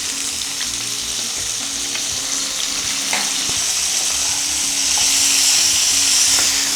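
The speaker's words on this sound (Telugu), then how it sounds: "స్టవ్ని సిమ్లోనే ఉంచుకొని వీటి మొత్తాన్ని ఫ్రై చేసుకున్నాం" Four garlic cloves and a large chopped tomato fry over a low flame, giving a steady, close sizzle with faint stirring scrapes throughout.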